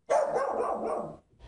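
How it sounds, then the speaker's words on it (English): A neighbour's dog barks loudly and up close in the early-morning hours, one sustained rough burst of barking lasting over a second, then a brief pause before it starts again. "Her dog barking for hours and hours and hours from 1 to 5 in the morning."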